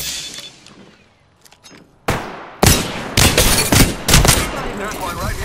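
Gunfire in the battle royale game Apex Legends: after a quiet stretch, loud close bursts of rapid automatic shots rip out in several clusters, sharp and dense, with no speech over them.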